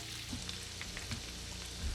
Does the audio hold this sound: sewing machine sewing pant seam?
no